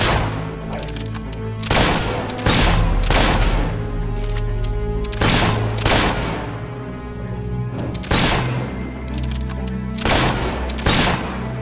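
Repeated gunfire bursts in the video game Fable 3, loud, close and broadband, arriving in irregular clusters over a steady music bed, with no talking.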